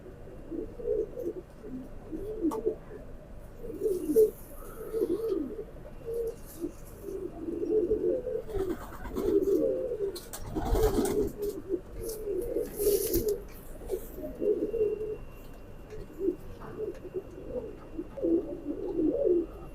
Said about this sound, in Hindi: वेटलेस कबूतर है, बड़े साइज का कबूतर है ये